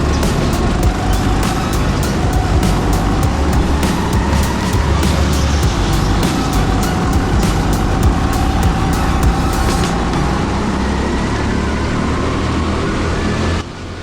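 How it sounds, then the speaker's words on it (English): Go-karts race at TeamSport Sheffield's indoor track, a loud, steady engine drone with a dense run of sharp clicks and knocks that cuts off near the end, leaving a quieter hum. "Chris very kindly brings a new kart for me, so I jump in and rejoin the race back behind Jacob."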